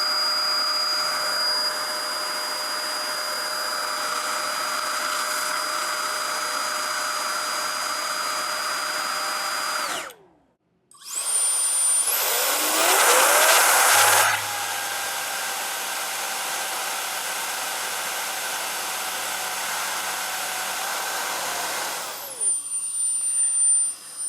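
A 60V leaf blower and a 20V Ironfist Dewalt blower run one after the other, each a loud, steady whining roar, with a brief cut-off between them and a surge as the second starts.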